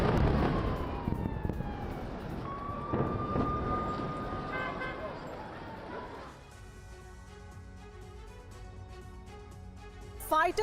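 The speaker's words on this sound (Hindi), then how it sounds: "राफा में बज रहे हैं इमरजेंसी सायरन।" Emergency sirens wail in Rafah, Gaza, a rising and falling tone sweeping over a noisy, crowded scene with voices and traffic, then giving way to a steadier drone and scattered sounds.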